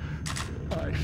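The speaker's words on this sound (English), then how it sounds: "Reloading!" A weapon reloads in the Left 4 Dead 2 video game: two quick metallic mechanical bursts ring out over a steady low in-game hum.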